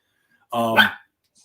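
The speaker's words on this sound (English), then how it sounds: "And I apologize for the dog." A single short, loud dog bark close by, a harmonic woof lasting about half a second, from a Labrador reacting to activity across the street, followed by quiet.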